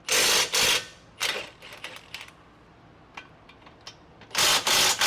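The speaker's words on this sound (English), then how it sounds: "let me pull off the caliper bracket now" Sharp metallic clanks and rattles come in bursts as a brake caliper bracket is worked loose and pulled off, with quieter small taps and clicks between the louder clusters.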